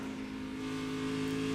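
NASCAR Xfinity stock cars race around a track, a dense, steady engine roar that builds slightly as the cars run close together lapping slower traffic.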